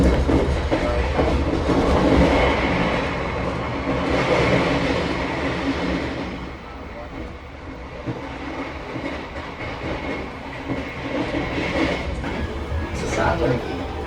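KA Argo Wilis passenger train running at high speed on the Bandung–Surabaya line, a steady broadband rumble of wheels and rails heard from inside, continuous and fairly loud with faint voices beneath.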